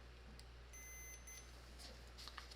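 A continuity tester beeps once in a steady, high, faint tone lasting about half a second while checking the wiring of a vintage watchmaker's lathe universal motor, over a constant low hum.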